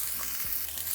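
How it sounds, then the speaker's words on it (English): Half an onion fries in a little leftover oil in a pan used for shrimp tortitas, giving a brief, even, soft sizzle. "we're going to leave a little oil behind. And in that, we're going to be cooking half an onion"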